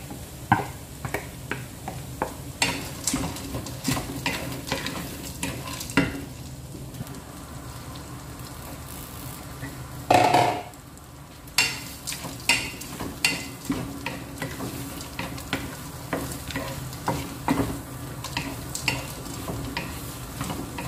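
Frozen corn sizzles in a hot pan as a spoon stirs and scrapes through it in repeated soft strokes. The frying hiss stays steady, with one louder burst of sizzling midway, and no one speaks.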